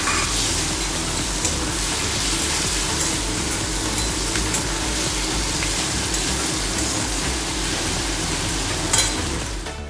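Garlic and slit green chillies sauté in a pan with a loud, continuous sizzle and frying crackle. The sizzle holds steady throughout, close by, with no voices.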